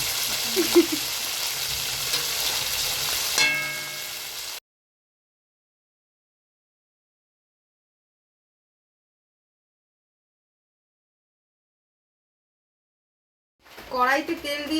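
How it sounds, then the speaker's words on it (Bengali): Pomfret fish coated in salt and turmeric fries in oil in a pan, a close steady sizzle for a few seconds with brief speech over it. Then long silence, with talk returning at the end. "আগে পমফ্রেট মাছটা ভাজবো মাছে লবণ হলুদ মাখিয়ে নিয়েছি এটা ভেজে নেবো"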